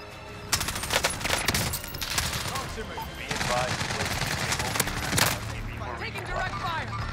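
Gunfire fills a Warzone match, with rapid automatic bursts and single shots crackling almost continuously, mixed with game radio voices and other battle noise.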